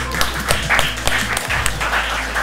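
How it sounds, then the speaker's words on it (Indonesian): Dense audience applause from a crowd at an inspirational talk, steady rapid clapping filling the whole stretch at close range. "Aplaus untuk beliau."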